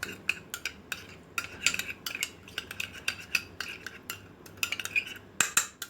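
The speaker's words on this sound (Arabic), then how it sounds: "هقلب ده بقى كده مع بعض." A metal spoon stirring and scraping food in a cooking pot, a series of sharp, close clinks and knocks in an uneven rhythm, with no talking.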